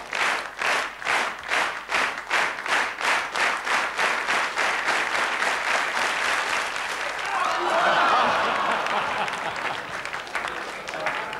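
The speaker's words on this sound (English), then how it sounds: "let's get this clapping going" A stadium crowd claps in a steady rhythm for a standing long jump attempt, about two even claps per second for roughly six seconds, before the beat breaks up into a broad, continuous roar of crowd noise.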